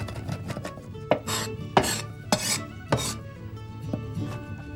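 Sharp, irregular knife strokes finely chop a mix of pistachios, macadamias and almonds on a board, about half a dozen crisp close thwacks over a steady low kitchen hum, with no talking.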